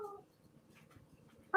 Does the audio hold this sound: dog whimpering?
yes